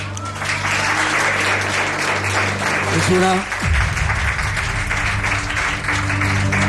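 A studio audience applauds a radio show's first guest, Álvaro Martín, a Madrid journalist and writer. The steady clapping runs throughout, with a host's voice talking over it.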